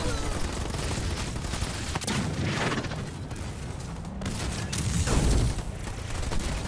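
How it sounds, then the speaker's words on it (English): Sustained gunfire and explosions from ground troops in a Halo Wars 2 battle, a dense, continuous barrage of shots and booms that swells louder toward the end. "Receiving fire from ground troops."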